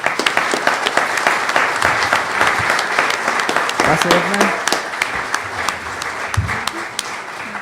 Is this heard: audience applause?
yes